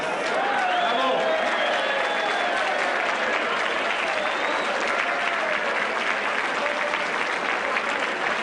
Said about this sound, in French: applaudissons-nous